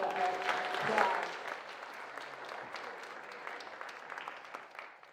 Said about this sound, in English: Would everybody please give Russ a round of applause?